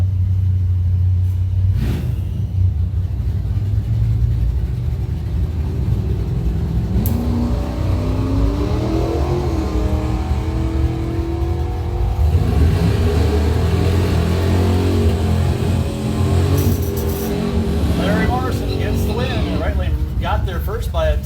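At the Cory Gunther Memorial drag race, a 2002 Grand Prix and a 1970 Chevelle launch and accelerate hard, a deep rumble rising into revving that surges and fades, under continuous commentary from an announcer.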